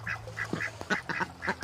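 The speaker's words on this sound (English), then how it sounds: "Hi, ducks." Several ducks quack in short nasal bursts by a stream in a garden, close and fairly loud, with soft background noise.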